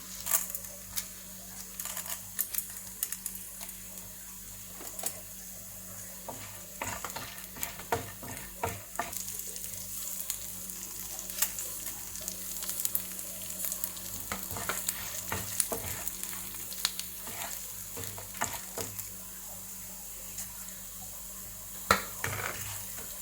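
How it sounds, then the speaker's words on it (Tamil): Chana dal and urad dal frying in about a teaspoon of oil for an Udupi-style pumpkin curry, a soft steady sizzle with frequent scraping stir clicks of a spoon against the pan, close and without talk. "ஃபஸ்ட்டு கடலைப்பருப்பும் உளுந்தையும் நமக்கு ஃப்ரை பண்ணி எடுக்கலாம்."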